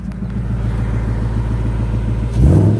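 A 2021 Ford Mustang GT 5.0 V8 exhaust in sport mode idles with a loud, steady low rumble, then gives a short rev blip near the end.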